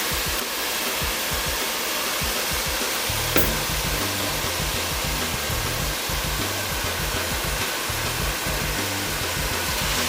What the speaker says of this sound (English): because the vegetables are kind of sauteed now